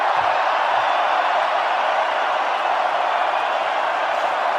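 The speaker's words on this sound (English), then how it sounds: "The roar of the crowd says it all." A huge crowd roars at an AFL grand final between Geelong and Sydney, a steady, loud wall of cheering noise held without a break.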